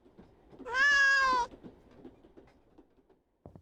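A cat in the video game Therapy Simulator lets out one loud, drawn-out meow that stands alone over a quiet background, followed by a short soft knock near the end.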